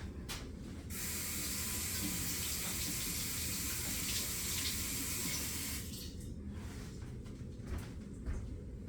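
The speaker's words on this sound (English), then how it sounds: "Wash my hands." Steady tap water runs into a kitchen sink while hands are washed during homemade apple pie baking, a continuous loud splashing rush that cuts off near the end, leaving a few faint drips and clatters.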